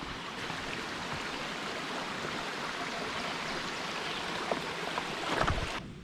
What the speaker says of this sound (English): First brook we're going to cross here.